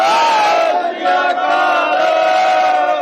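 A large crowd at an Aam Aadmi Party election campaign rally in Tarn Taran shouts a slogan in unison, a loud, sustained roar of many voices with no pause over three seconds.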